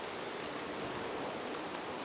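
Rain in WildRP, a Red Dead roleplay game, near a swamp at night, heard as a steady, even, soft hiss of rainfall with no talk.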